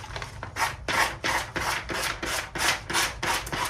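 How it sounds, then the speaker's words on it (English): A coarse sanding block rubs rice paper off the edge of a coaster in about nine steady, rasping back-and-forth strokes, close and fairly loud, with no voices. "I do use a coarse sanding paper for this, and then it just comes off in just a couple of swipes."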